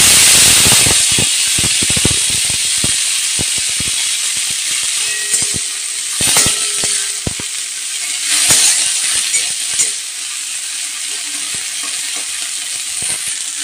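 Food drops into hot ghee in a pan and sizzles loudly with a steady high hiss, broken by crackling pops and bursts of spattering, close and alone without talk.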